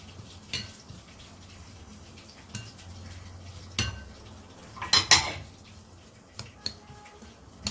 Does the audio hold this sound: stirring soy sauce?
yes